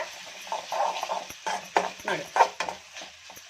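Mint and coriander leaves frying with tomato in a pan for a village-style kalu gojju, with close spoon scrapes and stirring knocks over a light sizzle and a few irregular clatters.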